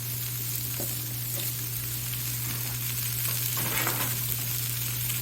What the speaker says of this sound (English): now we're throwing some vegetables on the grill